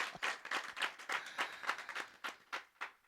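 An audience claps at a Hindi spiritual satsang programme, a spaced run of roughly a dozen bright, distinct claps that are fairly faint and stand alone with no talking over them.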